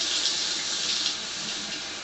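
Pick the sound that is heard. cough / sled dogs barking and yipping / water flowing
water flowing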